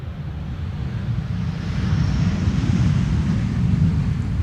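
An Iberia airliner inbound from Madrid, flight 731, lands on the Polderbaan runway 18R, a deep steady engine rumble that swells louder mid-clip, mixed with wind buffeting on the microphone.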